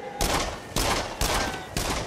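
Repeated bursts of gunfire from the Until Dawn: Rush of Blood shooter game, four loud broadband volleys about half a second apart, each starting sharply and dense with crackle.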